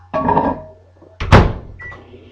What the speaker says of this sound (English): so I'm gonna put that in the microwave.